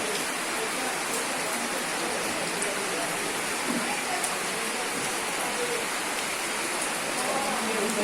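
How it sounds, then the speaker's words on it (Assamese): Heavy rain pours down steadily and loudly, a dense continuous hiss of drops on surfaces from start to finish, with speech in places. "এই বৰষুণত ভিজি ভিডিঅ'টো আৰম্ভ কৰিছোঁ।"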